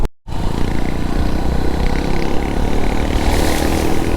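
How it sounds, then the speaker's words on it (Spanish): A Voge 300 Rally motorcycle engine roars loud and steady as the bike accelerates along a road, with heavy wind rush and no talking. "Apriete duro la moto y deje que adelante vaya navegando"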